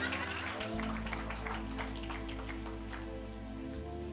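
An audience claps at a sermon-style talk, a steady patter of many hands with a low hum underneath and faint background voices.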